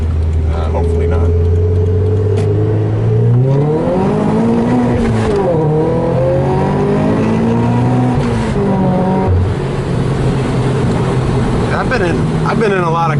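Kraftwerks C30 supercharged FRS driven hard from inside the cabin, a loud engine climbing and falling through revs with gear changes and a strong supercharger whine, people talking over the roar.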